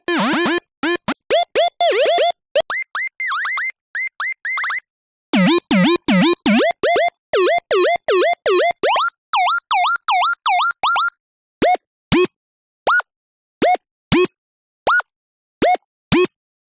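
Wip/woop synth built from multiple oscillators fires rapid rhythmic bursts of swooping, bouncy tones, dense and stuttering at first, then thinning to sparse single chirps, crisp and loud over silence.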